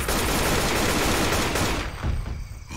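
Sustained gunfire in the zombie game Left 4 Dead 2, a dense loud rapid burst that fills most of the moment before cutting off abruptly into quieter residue.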